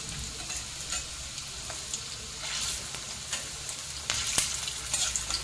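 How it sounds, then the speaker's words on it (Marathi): Chicken kofta balls fry in a pan with a steady, dense sizzle of hot oil, broken by occasional sharper crackles and pops; close and moderately loud, with no speech. "चला आता आपण दुसऱ्या साइडने घेऊया फ्राय करून।"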